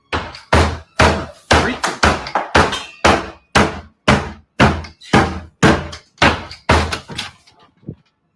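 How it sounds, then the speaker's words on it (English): A door hammered violently in an empty apartment: about fourteen heavy, booming knocks at a steady, slightly slowing pace, loud and close, fading at the end. "As if the violent knocking wasn't enough"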